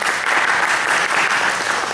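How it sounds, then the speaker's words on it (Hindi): Loud, dense applause from a large Holi celebration gathering, a steady wash of many hands clapping throughout without a break. "सभी के लिए जोरदार तालियां"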